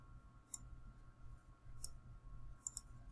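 Three or four sharp, faint clicks of a computer mouse spaced across a quiet room with a low background hum, the last two close together.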